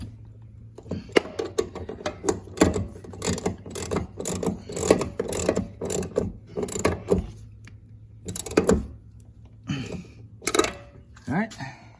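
A ratchet snugs up the lower door hinge bolts on a 2007–2013 Chevrolet Silverado, rapid clicking bursts in quick runs with pauses between, close by, with some scraping and handling noise.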